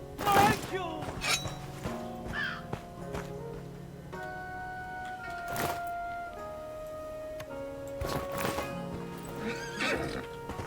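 A horse in the video game Mordhau gives a loud whinny near the start, then its hooves clip-clop steadily alongside clinks and sustained musical tones.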